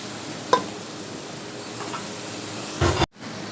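Tomato masala for chicken bhindi frying in a pan, a steady soft sizzle with a couple of brief stirring clatters and a sharp knock near the end.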